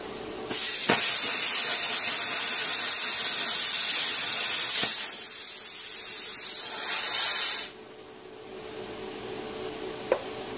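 A 50 amp plasma cutter slicing through 1/8 inch metal: a loud, close, continuous hissing roar for about seven seconds that cuts off abruptly, leaving a quieter background hiss and a brief click.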